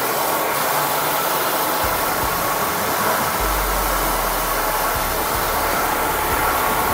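A rice mill machine runs in Batac, Ilocos Norte, producing a loud, steady, broadband mechanical roar and whir that holds at an even level throughout, with no voices.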